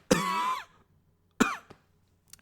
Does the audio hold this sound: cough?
yes